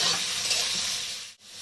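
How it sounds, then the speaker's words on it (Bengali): Tomatoes tumbling into softened onions frying in a pan, a steady broad sizzle with stirring, briefly dipping near the end before resuming. "টমেটোটা আমি দিয়ে দিচ্ছি।"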